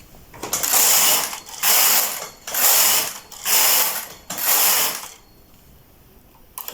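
A knitting machine carriage is pushed back and forth across the needle bed while knitting the rows of a dress. There are five loud, rattling, ratcheting passes in a steady rhythm, each lasting about a second, followed by a quiet stretch.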